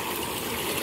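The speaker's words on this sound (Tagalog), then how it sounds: "Ayan, may fountain dito naman dito." A water fountain splashes in a steady, dense rush of falling water, continuous and fairly loud throughout, with no voices.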